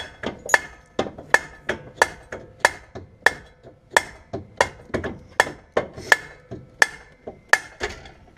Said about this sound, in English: all you're going to do is take your hammer.